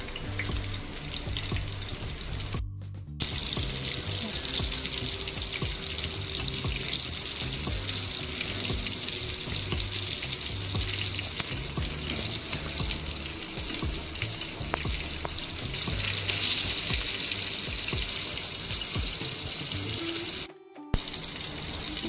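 Pomfret fish shallow-frying in oil on a flat tawa, a continuous hissing sizzle holding steady for a long stretch with faint bubbling and a brief pause or two, no voices.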